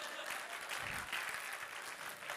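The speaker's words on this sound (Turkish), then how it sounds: "Bak adamlar alkışlıyor." A theater audience at a family-themed comedy talk applauds, producing brief, dense clapping that is fairly faint and distant throughout.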